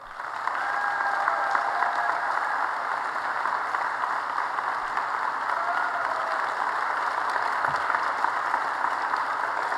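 A lecture audience applauds to welcome Dinesh D'Souza. The clapping is steady and sustained from a full room, with no voices over it for nearly ten seconds.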